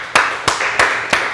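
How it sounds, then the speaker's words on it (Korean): A church congregation claps together in unison at a Korean church service, four even, sharp claps spaced about a third of a second apart, close and moderately loud. "우리 먼저 하나님께 영광의 박수 한번 올리겠습니다."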